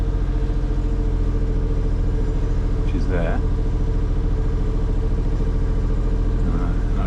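A sailboat's inboard engine idles steadily while warming up after four weeks unused, a loud, even low throb with a regular pulsing rhythm, close by, as someone speaks briefly over it.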